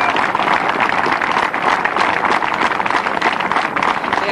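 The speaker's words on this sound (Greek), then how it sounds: "ας έρθει να εισπράξει το χειροκρότημα" Audience applause at a concert in Konitsa, 1991, a dense, steady wash of many hands clapping close and loud throughout, with no pauses.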